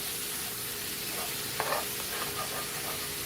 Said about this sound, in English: You want to scrape up the bits from the bottom of the pan